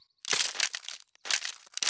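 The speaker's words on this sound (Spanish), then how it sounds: "Los pollitos están rompiendo el cascarón." Two brief bursts of dry crackling and crunching as cartoon chicks crack their eggshells while hatching, close up with a short pause between.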